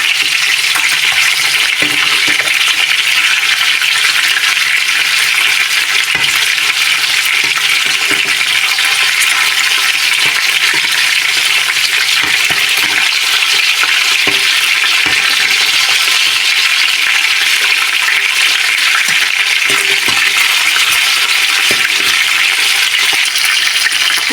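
Sea fish fry in a pan, a loud, continuous close-up sizzle with occasional soft knocks as the pieces are turned, with no talking.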